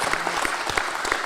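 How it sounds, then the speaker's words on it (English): Audience clapping at a live rowing industry event, a short burst of dense applause from several people, close and fairly loud. "Round of applause"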